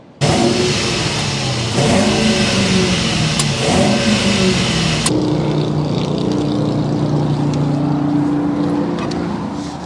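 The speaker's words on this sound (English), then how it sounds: "start up this bi-turbo V8 so you can hear that exhaust note" The bi-turbo V8 of a 2024 Mercedes-Maybach GLS600 starts and revs hard close by, a deep throaty exhaust roar rising and falling in bursts before settling into a loud steady rumble.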